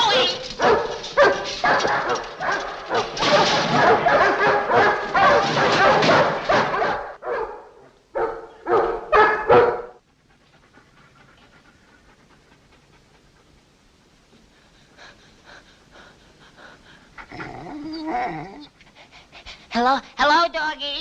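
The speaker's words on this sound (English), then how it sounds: "Hello, doggies." Several dogs pant and bark in loud, rapid bursts for the first ten seconds under a voice in a 1953 comedy film, then go quiet before fainter barks and yips return near the end.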